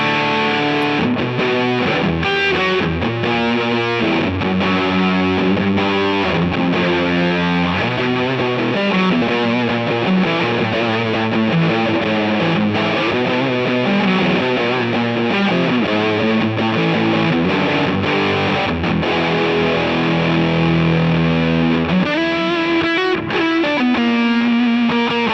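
An electric guitar is played through a Lil' Rat distortion pedal set toward fuzz, giving thick, saturated chords and riffs that sustain continuously and loudly for the whole stretch, with no talk.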